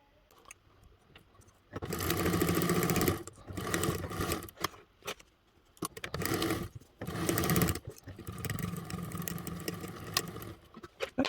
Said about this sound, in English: we're going to sew along those two lines at a 1/4 inch seam allowance